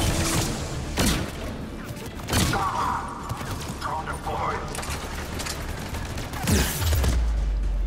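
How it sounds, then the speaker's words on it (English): A grenade launcher fires in Mass Effect 3 with several sharp, thudding shots at irregular intervals. Mechanical clatter and combat noise fill the gaps, and a voice talks over the action. "It's shooting like grenades or something"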